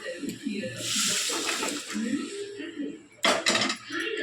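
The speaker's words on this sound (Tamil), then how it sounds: "இப்போ நல்லா கிண்டி விட்டுக்கலாம்." A spoon scrapes and clatters through chicken gravy with cooked meat in a pan, wet stirring and metallic knocks coming in uneven bursts while a voice talks over part of it.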